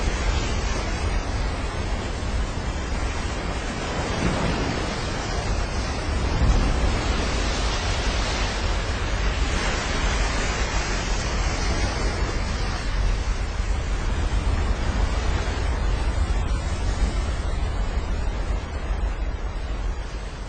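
Ocean surf playing back from a big-wave surfing clip of a wave nearly 100 feet high, a loud continuous roar of crashing water and wind rush that swells slightly partway through and has no voices over it.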